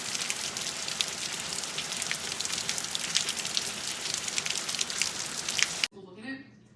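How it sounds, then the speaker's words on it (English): Steady rain pouring outside on a dreary day, a dense continuous hiss with scattered drops that cuts off near the end, where a voice briefly speaks. "It is still raining and disgusting outside."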